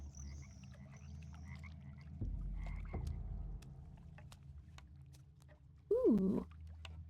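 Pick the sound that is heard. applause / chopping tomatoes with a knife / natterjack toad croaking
natterjack toad croaking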